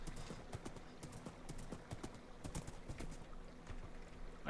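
Horse hooves clip-clopping steadily in the Minecraft video game, a quick irregular run of close, moderately loud hoof knocks continuing through the clip, with no talking.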